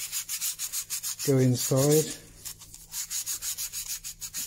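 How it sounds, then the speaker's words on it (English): Sandpaper rubbing back and forth on a wooden clock counterweight during repair, a steady rhythmic scratching of even strokes close up, with a brief burst of spoken voice in the middle. "twisting the paper slightly in the middle so that it's hopefully sanding one side and the other"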